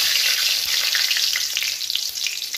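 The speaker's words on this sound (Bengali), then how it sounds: "ওই তেলের মধ্যেই এবার আমি এগুলো ফোড়ন দিয়ে দেবো" Whole cumin, dry red chilies and a bay leaf tempering in hot oil while making Bengali aloo dum, a loud, dense steady sizzle with crackling pops throughout.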